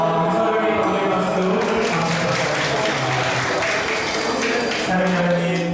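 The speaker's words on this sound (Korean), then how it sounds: "서로에게 감사의 박수" A church congregation claps for one another in sustained, even applause that holds at a steady level throughout, over a faint musical background.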